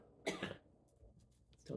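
A short, hoarse cough followed by rough throat clearing from someone with a healing, crackly throat, close and fairly quiet, with no other sounds around it.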